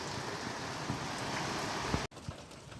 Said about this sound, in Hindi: ये देखो जी बहुत भयानक सी बारिश हो रही है, बिल्कुल अंधेरा सा हो चुका है एकाएक बारिश से।